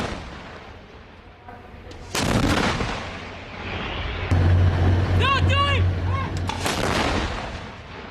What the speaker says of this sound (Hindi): आर्टिलरी के जरिए हिजबुल्लाह के ठिकाने तबाह किए गए हैं।